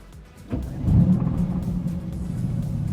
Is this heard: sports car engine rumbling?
yes